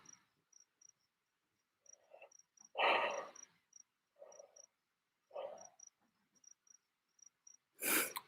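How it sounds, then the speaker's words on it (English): Crickets chirp in faint, regularly spaced high pulses through a quiet night, broken by several louder soft rustling or breathy bursts nearby. "The crickets are putting me to sleep too."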